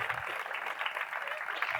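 Audience applause for guest Santiago Posteguillo at the LITERALH 2024 literary event, a steady patter of clapping from a crowd that holds at a moderate level throughout.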